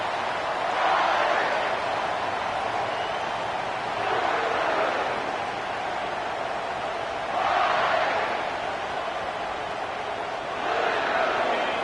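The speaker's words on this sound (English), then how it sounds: "This crowd trying to show them what it's going to be like all day in this house." Stadium crowd noise from a college football video game swells and fades in repeated waves, a broad, steady roar rising into louder surges every few seconds, with no distinct voices standing out.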